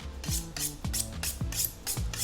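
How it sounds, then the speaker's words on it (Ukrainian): A kitchen knife is drawn along a honing steel while preparing lagman, giving about six quick rasping metallic strokes in a steady rhythm, close and fairly loud with no talking. "я тобі хочу підвести твій ніж"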